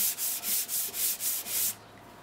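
A metal wood plane's sole is pushed back and forth across an abrasive sheet during flattening, making seven rhythmic, close gritty rasping strokes before stopping.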